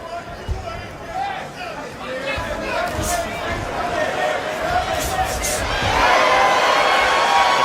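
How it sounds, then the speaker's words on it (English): Crowd noise at a professional boxing match swells from a murmur into louder cheering, a dense roar of many voices behind a commentator speaking over it. "The crowd cheering for anything that Keyshawn lands."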